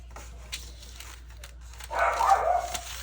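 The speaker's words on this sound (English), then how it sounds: "puppies are barking at something" Puppies bark a few times in a brief, mid-distance burst near the end of the clip, following a stretch of quiet room tone.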